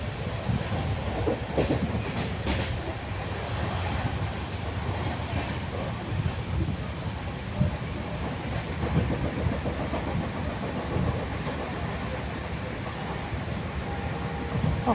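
Inside a moving passenger train, a steady rumbling clatter of wheels on rails continues throughout at moderate level, with faint background murmur of passengers.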